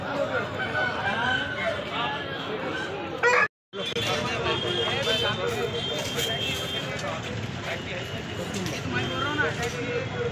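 Khaki ducks calling amid a busy outdoor Sunday market in Hyderabad, steady honking quacks mixed with crowd chatter and bargaining voices throughout, with a brief silent gap early on.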